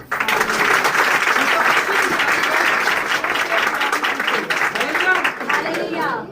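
A church congregation claps loudly and continuously in a dense burst of applause, with voices calling out over it before it tapers off at the end.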